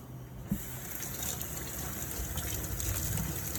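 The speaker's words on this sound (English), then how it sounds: "throw them in a container like that with some hot water from the faucet" Hot water running from a kitchen faucet into a container for soaking chile peppers, a steady close gushing pour with a brief knock near the start.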